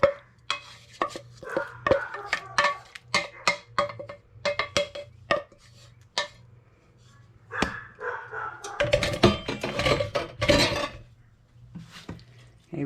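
Baked spaghetti ingredients are stirred together in a pan, giving irregular clanks and scrapes of a utensil against metal. They come in quick bursts with short pauses, get busier toward the end, and a voice is faintly heard.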